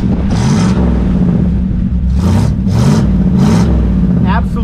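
A 1960 Chevrolet Impala with a 283 two-barrel V8 and dual exhaust runs close by in a low, steady rumble, while someone talks over it in several short bursts.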